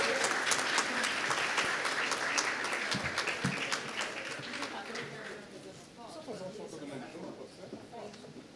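Audience clapping at a university scientific initiation conference, fairly full at first, then thinning and fading toward the end, with voices talking over it.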